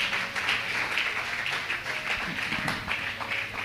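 A church congregation claps and cheers in acclaim of Jesus, producing a sustained, dense wash of applause from a large crowd with a few voices mixed in.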